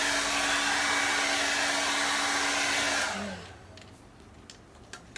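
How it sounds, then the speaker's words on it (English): A hair dryer roars steadily at close range for about three seconds, drying acrylic pour paint, then switches off, leaving quiet room sound with a few faint clicks. "blow dry it with a hairdryer"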